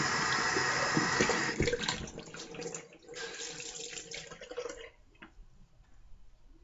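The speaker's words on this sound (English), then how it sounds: "cold water rinse." Water runs from a tap for a cold rinse after a straight-razor shave, loud and splashing at first, then thinning to a quieter, uneven trickle and patter near the end, with no one speaking.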